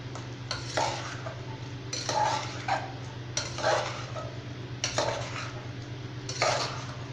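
A spoon stirs tomato kulambu ingredients in a cooker pot, scraping and clinking against the metal in five or six repeated strokes at an even rhythm, close and moderately quiet over a low steady hum.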